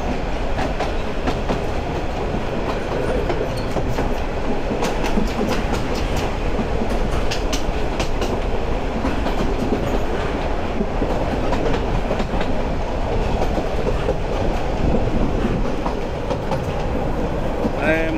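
Chattogram University shuttle train rolls along steadily, a loud continuous rumble of wheels on track with rhythmic clickety-clack and occasional faint squeals, heard from inside the carriage.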